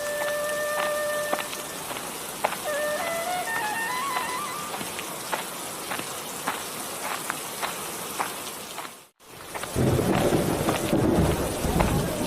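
A cartoon thunderstorm with rain, steady hiss of falling rain joined by thunder cracks and a brief tonal jingle early on, a sudden gap, then a louder rumbling burst of thunder and heavy rain.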